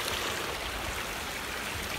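Water running steadily in an outdoor fountain, a soft continuous splashing rush with no voices.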